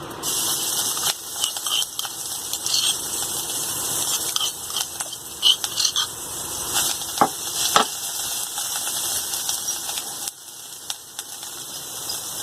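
Chilli paste frying in hot oil for a fried okra (bhindi) dish, a steady close sizzling hiss with faint crackles and small pops scattered throughout, no voices.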